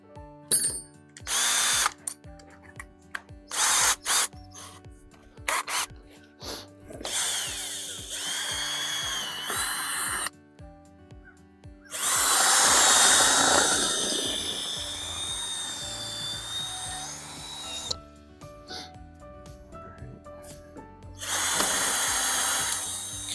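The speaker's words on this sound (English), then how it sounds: "We're gonna pick up a drill bit to drill that transom." A power drill whirs in short bursts while drilling a boat transom, then a longer high-pitched grinding run, stopping and starting again, close by.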